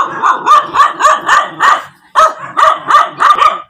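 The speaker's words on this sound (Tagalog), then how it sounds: "Yung aso lang ang naiwan." A dog left at a home barks in two rapid bursts of repeated sharp, loud, close barks separated by a short pause.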